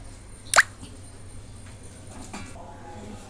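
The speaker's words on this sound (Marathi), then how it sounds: "आता मी ह्याच्यातलं थोडं पीठ काढून ठेवणार आहे" Fermented idli rava batter is scooped out of a pot, giving one soft, wet plop near the start followed by quieter faint squishy sounds in a hushed room.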